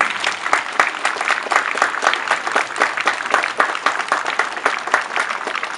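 Audience applause at the March of the Expelled in Wieruszów, a dense, steady crowd clapping that holds at an even level throughout with no talk over it.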